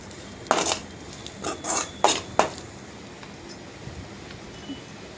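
A utensil clatters and scrapes in a pan as chili powder is mixed into fried rice, giving four or five quick metallic scrapes close by, then quiet.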